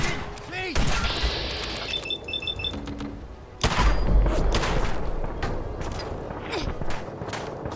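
Gunfire in the video game Fallout 4 comes as several sharp shots and thuds, some quick bursts, mixed with in-game noise while someone talks over much of it.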